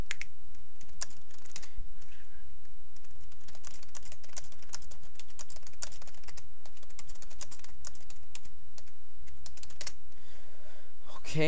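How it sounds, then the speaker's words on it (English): Steady clicking of a computer keyboard, rapid irregular keystrokes running throughout, close and clear with no talking. "Right now, I am typing to your past self."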